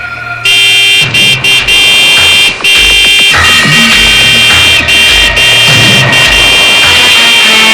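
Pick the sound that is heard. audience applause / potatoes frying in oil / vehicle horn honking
vehicle horn honking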